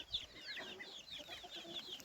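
High, thin peeping of young chicks and guinea fowl keets chirps steadily over a soft background, several tiny voices overlapping close by.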